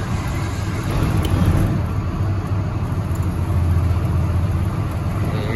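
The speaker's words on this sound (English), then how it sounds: "Got a Onan generator under here" An Onan generator mounted under a 2000 Freightliner MT45 step van runs with a steady, heavy low rumble and engine drone that stays even and fairly loud throughout, with no voices.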